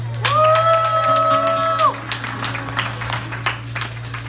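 Applause and cheering from a small concert audience welcoming a singer, a sustained whoop over scattered clapping and a steady background hum.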